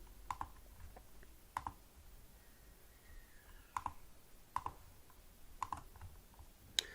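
Keys on a computer keyboard pressed in sparse single taps and quick pairs while deleting a paragraph in Word 2016, crisp clicks spaced across a quiet room with no talking.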